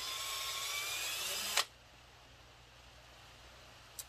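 A Ryobi right angle drill whines steadily for about a second and a half boring into wood, then cuts off sharply, leaving faint room noise and a brief click near the end.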